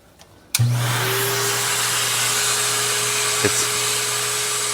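An ultra quiet vacuum cleaner switches on in a garage with a sharp start, then holds a steady, close, even whir with a faint low hum for several seconds, no voices over it.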